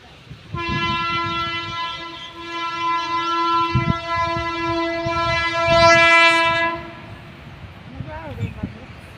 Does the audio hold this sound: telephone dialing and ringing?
no